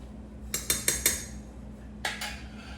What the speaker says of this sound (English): Put it in there and stir it around.